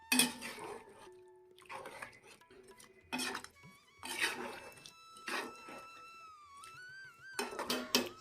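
Mixed biryani being stirred in a pot, with repeated scraping and clinking of a utensil against the pot in uneven bursts, close and moderately loud, some strokes longer and smoother than others.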